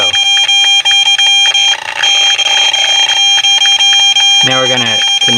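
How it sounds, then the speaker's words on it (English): A radiation meter alarm blares inside a car, a loud, continuous electronic beeping tone that stays harsh and steady, with a brief shift in pitch pattern near the end. "the alarm is just going off"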